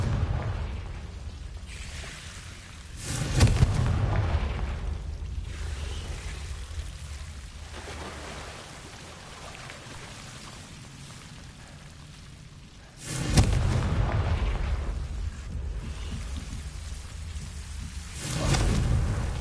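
Confringo blasting curses from Hogwarts Legacy go off as three heavy booming blasts, spaced well apart, each fading into a rumbling, rain-like wash of background noise.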